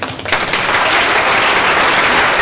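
Loud audience applause at a student debate event, a full burst of clapping that swells quickly after a brief quiet start and holds dense and steady.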